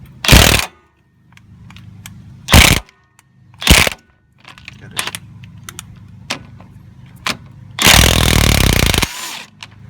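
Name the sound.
power tool spinning off a bolt on a car's control arm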